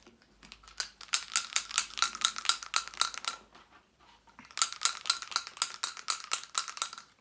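Game dice rattle and clatter in two long stretches of rapid clicking, close and crisp, separated by a brief pause, with no voices.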